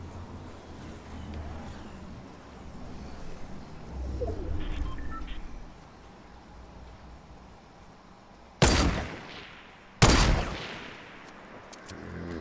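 Two sharp gunshots from the video game Fortnite crack out about a second and a half apart, loud and close, over a quiet ambient background with faint game sounds.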